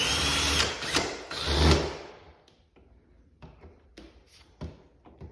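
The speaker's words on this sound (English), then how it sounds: "I'm gonna take my drill because it's way faster." A power drill whirs loudly for about two seconds while tightening door knob screws, then stops, followed by a few quieter clicks and taps of metal parts.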